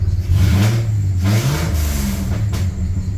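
A 1995 Dodge Dakota 3.9 V6 fitted with new headers revs up quickly several times, loud and close, rising and falling with a throaty exhaust note.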